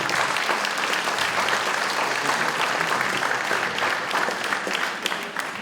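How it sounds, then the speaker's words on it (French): Townspeople at a French mayor's New Year address applaud the municipal technical services teams, a steady, dense round of clapping from a seated crowd that holds evenly for several seconds without speech. "Et puis, oui, vous pouvez les applaudir."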